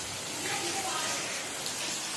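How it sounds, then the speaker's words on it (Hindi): Rain falls steadily outside a home during a downpour heavy enough to let water into the room, a dense, even hiss that holds at the same level throughout the short stretch. "बाहर बारिश हो रही है"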